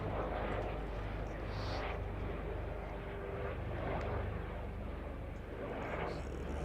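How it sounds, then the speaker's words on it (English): A red air ambulance helicopter drones loudly overhead at a county cricket match in Warwickshire, a constant roaring engine wash with slight swells, filling the whole stretch. "a red helicopter flies overhead. That's an air ambulance."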